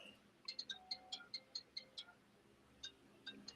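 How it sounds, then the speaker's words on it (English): A phone rings or chimes with a quick run of bright, evenly spaced electronic tones, then a few more after a pause, faint under low background noise with no speech. "Sound like a phone rang."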